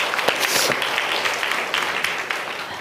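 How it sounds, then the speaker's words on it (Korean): A church congregation applauds together to give glory to God, steady broad clapping filling the room at full volume from start to finish. "하나님께 영광의 박수를 올립니다"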